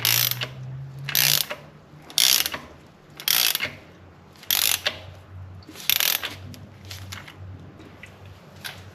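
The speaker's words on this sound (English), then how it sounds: "you are tightening brass to the aluminum thermostat housing" A ratchet turns in regular strokes, tightening a brass sensor into the aluminum thermostat housing of a Jeep Cherokee XJ. The bursts of clicking are sharp and close, with a low background hum.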